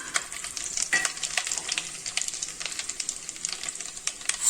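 Mustard seeds spluttering in hot oil, a dense run of sharp crackles and pops with irregular rapid bursts, close and without talk.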